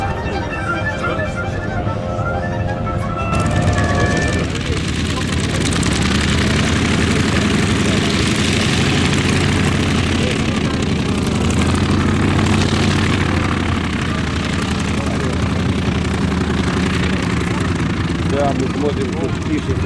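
Soviet I-16 WWII fighter taxiing at an airshow near Novosibirsk, its engine giving a steady, loud propeller drone that holds for most of the stretch while people talk nearby.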